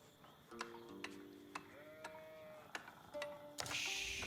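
Sheep in the strategy game Age of Empires give several short bleats spaced across the clip, with sharp ticking interface clicks between them and a brief burst of noise at the end.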